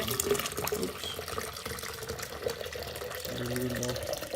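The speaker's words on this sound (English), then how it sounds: "I got some boiling hot water that I'm going to be pouring it in this one" Boiling hot water pouring into a yogurt maker at home, a steady running liquid wash throughout, close and moderately loud, with a fuller stream in the last second.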